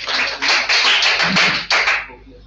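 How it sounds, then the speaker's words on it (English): A small audience claps for a speaker, a dense burst of applause lasting about two seconds before it stops, heard close with no talk. "clapping for you"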